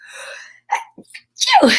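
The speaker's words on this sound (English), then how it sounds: "Sorry, I sneezed." A person sneezes once, close and loud, after a couple of short breathy vocal sounds and a brief pause.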